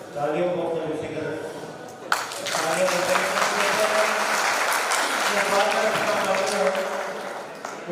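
Audience clapping at an all-India radio listeners' convention in Buldhana, a steady crowd-wide applause that swells after a brief dip, with a voice speaking over it throughout.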